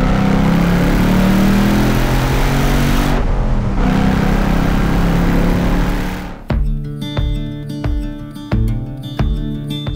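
Ford Mustang GT engine droning steadily as the car drives along a UK road, then after a brief dip the tone shifts to a rhythmic revving pattern with repeated gear-change surges.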